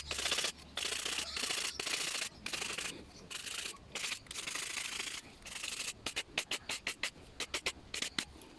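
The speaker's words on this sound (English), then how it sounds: "Just remove all the remaining gasket." Old gasket material is scraped off a Homelite Mighty Lite blower carburetor in rapid, close scratchy strokes, first in sustained bursts and then in short separate rasps near the end, with no talk.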